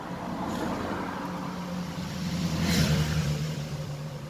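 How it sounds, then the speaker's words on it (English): Steady road traffic along the A259 through the South Downs countryside, a continuous low rumble of vehicles with one passing closer and louder midway, heard alone without talk. "Can you hear the sound of the traffic? Not much, but steady."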